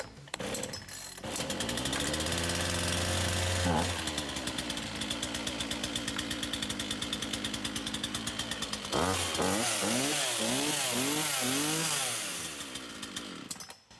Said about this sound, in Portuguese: a gente vai estar acionando o gatilho de acelerador uma vez. Ela vai liberar o bloqueio de aceleração e ela vai vir para lenta